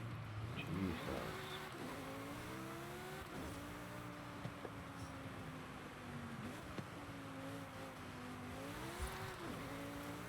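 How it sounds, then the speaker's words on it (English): Turbo whine and engine note of a Lamborghini Huracán in the Forza driving game, a steady loud engine tone that rises and falls with gear changes and acceleration, with no voices over it. "Or hear the turbo so we can feel it."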